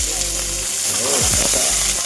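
Cumin seeds and vegetable stems frying in a pan for a thin catfish curry, a loud, close, steady sizzle lasting about two seconds, with a brief voice passing under it.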